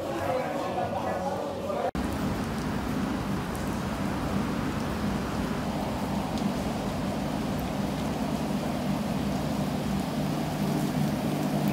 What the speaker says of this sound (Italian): Piove proprio, eh.